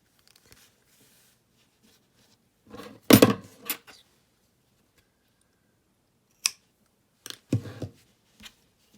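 Crochet yarn is snipped with scissors in a few short, close, crisp clips separated by silence, with no talk.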